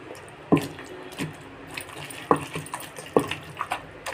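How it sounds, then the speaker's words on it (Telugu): Green chillies, salt, tomato and tamarind pickle pounded in a mortar with a pestle, giving irregular soft wet thuds spaced about a second apart, close by with no talking. "పచ్చిమిరపకాయలు ఇలా ఫస్ట్ మెత్తగా దంచుకోవాలి."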